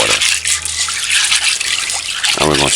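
Water poured steadily into a pot for Jamaican chicken foot stew peas, a loud continuous close-up splashing trickle lasting a few seconds, with a brief voice at the end.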